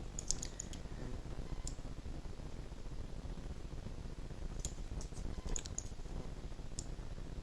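Sharp mouse clicks in small clusters and singles, quiet and close, over a steady low hiss while someone works in Autodesk 3ds Max.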